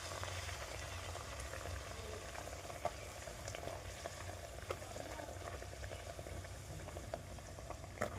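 Luchi fry in hot oil, a faint, continuous bubbling and light sizzle with occasional small pops and spatters, heard from a short distance.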